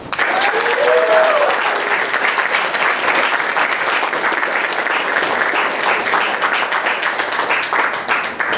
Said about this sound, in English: Can we please have a loud round of applause for our moderator, Julia Crucius.